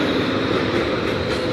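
A Portland streetcar rolls past close by, a loud steady rumble of wheels on rail with a dense, continuous roar and no speech over it.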